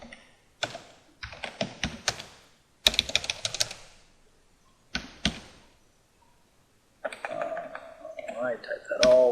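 Typing on a computer keyboard while coding keyboard input in Allegro 5: several close bursts of rapid key clicks separated by pauses, ending with a short stretch of speech.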